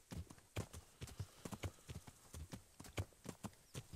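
Horse hooves clip-clop in a steady riding rhythm across a field in the video game Kingdom Come: Deliverance, quiet and evenly spaced with no voices over them.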